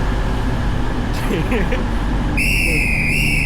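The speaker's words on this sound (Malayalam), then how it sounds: "പുള്ളി അടിപൊളി വിസിൽ അടിച്ചിരിക്കുകയാണ് ഗൈസ്" A person whistles at a railway station: sustained, fairly loud whistled notes rising over a steady background rumble of traffic and station noise, with a brief patch of murmur just before.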